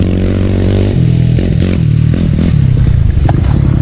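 An off-road racing motorcycle in the Baja 1000 at night roars loudly and close, its engine note shifting and revving through a rough, gritty pass.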